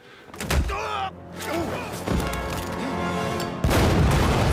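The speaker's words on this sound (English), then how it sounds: "Oh yeah, so it was bombs." Bomb blasts in the TV show Hawkeye, a few booming impacts and slams in short bursts, fairly close and loud, with voices talking in between.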